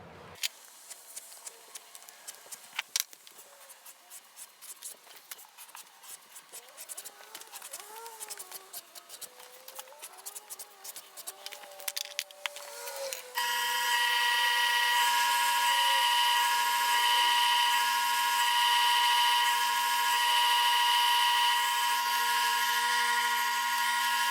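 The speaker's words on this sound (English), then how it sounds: "So let me bevel and burnish this, and then we'll assemble everything together." Edges of a leather firefighter radio strap are beveled and burnished. Close, uneven scraping and rubbing strokes give way to a loud, steady motorized whirring that holds on without a break.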